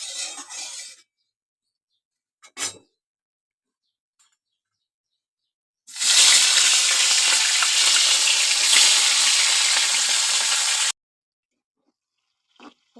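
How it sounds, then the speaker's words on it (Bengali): Rohu fish frying in hot oil in a wok, a loud continuous sizzle lasting about five seconds, preceded by short bursts of stirring noise and quiet gaps. "আমি মাছ ভেজে নেব।"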